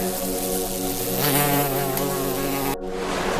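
Bumblebees buzz close by in a dense, continuous drone with wavering pitch, loud throughout before a brief break near the end.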